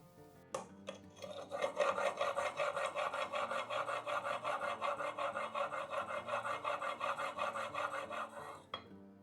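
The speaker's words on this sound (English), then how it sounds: "I think I can just do a few more strokes on the fine stone to get a micro bevel all the way" A flea-market tool edge honed on a fine sharpening stone, with a quick run of rhythmic, rasping back-and-forth strokes, close and steady, after a couple of light knocks.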